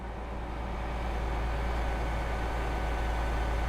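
Diesel generator units idling aboard a BR Class 805 Evero train in Train Sim World 6, a steady low rumbling drone that holds constant and fairly loud with no talk over it.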